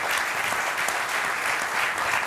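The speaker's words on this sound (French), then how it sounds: "merci de les applaudir tous en tout cas" Dense, steady applause from a large crowd at a French football awards ceremony, sustained throughout without pause.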